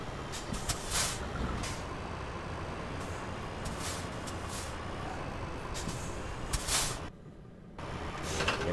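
Mercedes Arocs truck coupling a trailer in Euro Truck Simulator 2, steady diesel rumble with sharp hisses of air brakes and clunks, then a brief drop in noise and the engine resuming, close and continuous.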